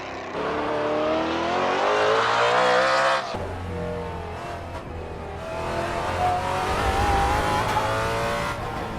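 A cross-plane V8 engine on a winding canyon road revs hard, then drops off and burbles unevenly before building again, close and loud with a rough rumbling tone.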